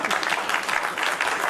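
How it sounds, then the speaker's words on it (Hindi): Audience applause at an Indian award ceremony, a thick burst of many hands clapping close and loud throughout the short stretch, with no voices over it. "अरे तालियां बजा"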